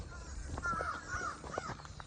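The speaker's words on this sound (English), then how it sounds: "nothing but squawking birds" Crows caw repeatedly in overlapping, harsh calls heard outdoors along a hiking trail, several birds at moderate distance over a low background hiss.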